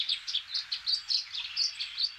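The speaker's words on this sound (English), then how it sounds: "these russet sparrows are known in Taiwan for how they sound" Russet sparrows in Taiwan chirp in a quick, regular run of short, thin tweets, fairly faint and alone.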